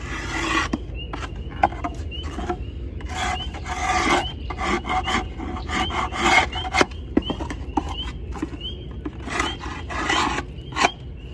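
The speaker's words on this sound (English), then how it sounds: "Just clean this box up real good. And give it a good scraping." A tool scrapes a wooden box with frames inside, giving repeated rasping strokes in an uneven rhythm, close and fairly loud, with no talking.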